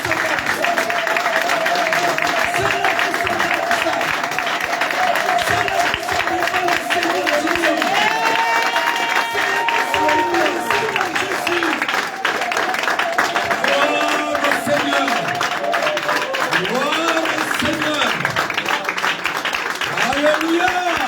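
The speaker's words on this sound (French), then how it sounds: "je veux que tu acclames le Seigneur" A church congregation applauds and cheers in praise of the Lord, loud sustained clapping and crowd voices filling the hall continuously, with talk and shouts mixed throughout.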